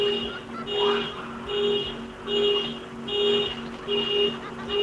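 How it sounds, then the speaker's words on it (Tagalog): A parked car's alarm sounds outside, a repeating two-tone electronic wail rising and falling in regular cycles about once a second, steady and moderately loud against background noise. "Nag-a-alarm, sir? Opo, sir, nag-alarm po yung sasakyan."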